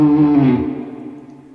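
A descending electric guitar lick: a short run of sustained harmonic notes stepping downward, then ringing out and fading over about a second and a half.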